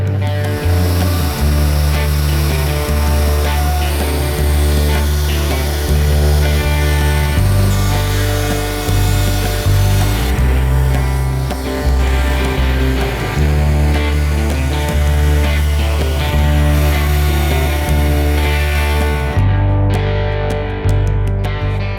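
A router fitted with a short-shank bearing-follower template bit cutting wood, a loud continuous whining roar with shifting pitch as the cut progresses, close and steady throughout.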